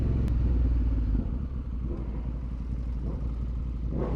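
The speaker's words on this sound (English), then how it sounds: "I'm on a motorcycle" A Yamaha MT-10 motorcycle with a full Akrapovic exhaust rumbles steadily at close range while riding in traffic, with low droning road noise and faint clatter throughout, no voices.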